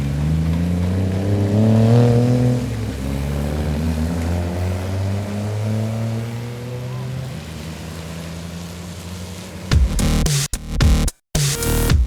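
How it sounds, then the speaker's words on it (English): Modified cars leave a car park after a meet, a low engine drone with slowly shifting tones that builds and fades, followed by louder, choppy bursts near the end. "The meet wraps up with the most sedate car park exit we've ever seen."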